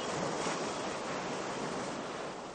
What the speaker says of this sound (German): Der Abstand zur Küste ist inzwischen so groß geworden, dass sich eine hohe See aufgebaut hat.